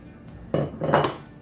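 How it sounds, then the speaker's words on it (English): Canned Rotel being stirred into browned hamburger meat in a pot, a couple of scraping, clattering strokes of the utensil against the pan, close and fairly quiet, with no talking. "Get that stirred in."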